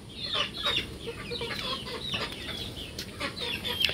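Gamefowl chickens in a raptor sweater breeding pen cluck and chirp steadily at close range, with overlapping calls from several birds and no talk.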